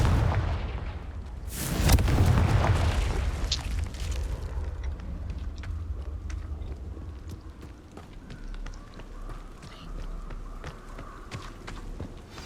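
A loud, booming fire-spell blast from the Confringo spell in Hogwarts Legacy erupts early, followed by a rumbling tail, footsteps and faint game ambience.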